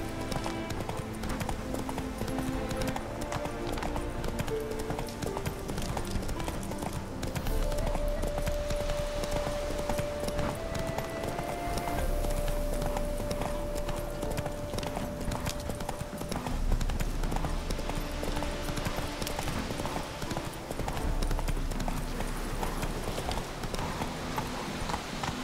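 Hooves of a horse galloping in The Witcher 3 video game, a rapid, steady clip-clop rhythm running throughout, with game ambience and a brief tonal cue behind it.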